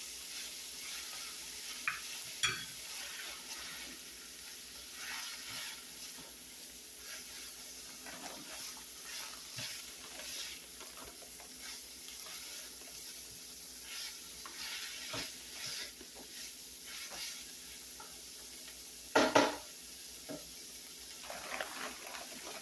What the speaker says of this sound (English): I'm going to add the rice because I want to toast up this rice.